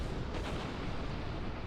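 Torpedoes launching in the Star Trek Online space combat game, heard as a dense, rumbling burst of weapon fire that holds steady and loud across the whole moment, with no talking over it.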